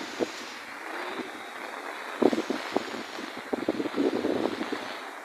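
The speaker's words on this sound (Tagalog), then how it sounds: "Yan po yung lakas ng bagyo na ngayon, oh." Strong typhoon wind in Pampanga roars and gusts against the microphone in uneven bursts, with buffeting thumps and a constant rushing hiss, loud and close.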